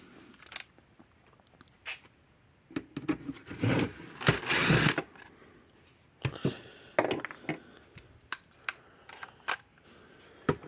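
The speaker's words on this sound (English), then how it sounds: "Let's get the screws out of it." Screws being removed from the case of a solid-state SACO electric fence energizer, with short whirring bursts of a power driver, a longer buzzing run, and scattered close clicks and taps of the tool against the housing.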